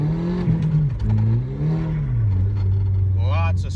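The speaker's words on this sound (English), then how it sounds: "I love the exhaust sound." A first-generation Audi TT Quattro's exhaust drones steadily as the car accelerates on a slick road, the engine tone rising and falling, with a brief chirp near the end.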